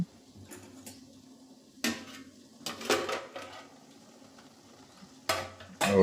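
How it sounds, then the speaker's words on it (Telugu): A metal lid is set on a cooking pot of spicy green chilli tomato egg curry with a few sharp clatters and clinks of metal between quiet stretches, ending in a louder knock. "అందులోనే ఒకసారి మళ్ళీ మూత పెట్టుకుందాం"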